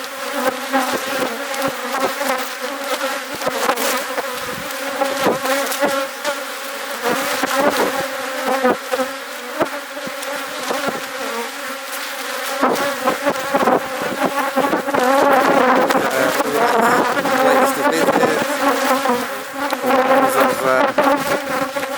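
Bees buzz outdoors in the hot, dry countryside of Alentejo, Portugal, a dense, steady drone of many insects close by that rises and falls slightly for the whole stretch, with no talking.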